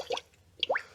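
Air bubbles glug out of the coolant system of a supercharged Honda Civic Type R during bleeding: two quick, close liquid plops, quiet and separated by a short pause.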